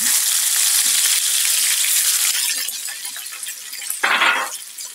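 Loud, bright sizzling of crushed garlic dropped into hot oil for tempering, a steady hiss that eases off, then a sharp crackling burst near the end.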